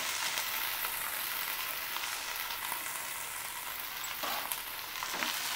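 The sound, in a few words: okra pieces frying in hot oil in a pan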